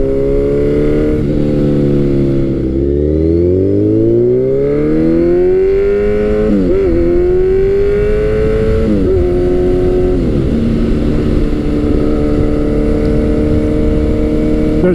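A Kawasaki Z900 motorcycle engine revs under throttle, its loud, close growl climbing and dropping through several sweeps, with brief dips as the throttle closes and reopens.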